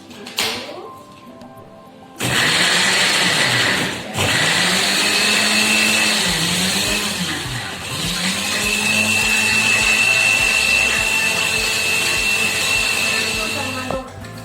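Blender grinding plant material for natural dye extraction, a loud steady whirring motor running for most of the stretch with brief dips and surges as the blade bites, close by, after a quieter start.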